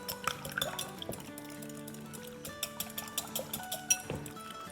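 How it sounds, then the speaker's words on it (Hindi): Two eggs are beaten in a bowl for eggplant cutlets, giving a quick run of light clinks and taps of utensil against the bowl over a soft kitchen background. "इसमें अब हम डालेंगे 2 अंडे, अंडों को फेंट लेंगे।"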